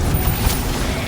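A Confringo fire spell explodes in the Hogwarts Legacy video game, a single loud burst rising out of a dense, continuous wash of game noise and effects.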